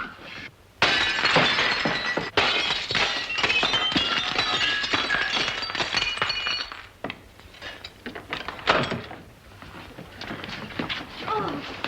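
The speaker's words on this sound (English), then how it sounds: "May I suggest, sir, that you break the glass?" A glass door being smashed in an old 1941 black-and-white film: a loud crash followed by a long spray of shattering, tinkling glass, with scattered clinks and voices toward the end.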